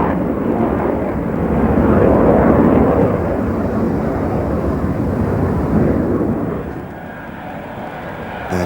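Formation of nine airplanes flying overhead, a steady broad engine roar that swells slightly near the middle, then eases and thins toward the end, with no talk.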